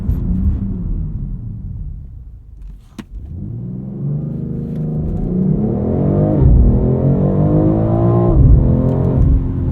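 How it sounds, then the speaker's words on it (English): A 2022 BMW X3 M Competition holds a steady rumble at launch control on a wet road, then its revs climb hard and continuously as it pulls away, loud and close from inside the cabin. "we've got to do one more launch control start"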